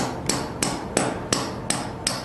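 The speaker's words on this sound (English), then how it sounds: "Take your hammer" A hammer taps an anchor bolt, capped with a nut, into place while assembling a volleyball net system: six light, evenly spaced metallic taps, close and clear with no talking.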